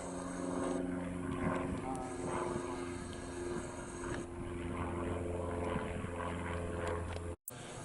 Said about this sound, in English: One microlight.